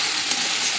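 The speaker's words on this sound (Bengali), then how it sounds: "মশলাটা ভালোভাবে ভেজে তারপর ঝোল দিয়ে দেব।" Masala spices fry hard in a pan for a red curry of chandana shutki (dried fish) and potato, giving a loud, steady, close sizzle and hiss with no break.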